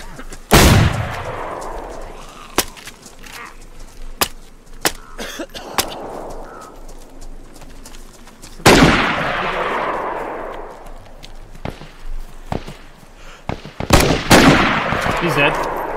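Gunshots ring out in DayZ: a loud sharp report near the start, another big one midway with a long echoing tail, and a cluster of shots near the end. Quieter clicks and thuds fill the gaps.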